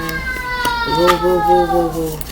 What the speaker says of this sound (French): Pardon pour le son que vous entendez, mon petit garçon.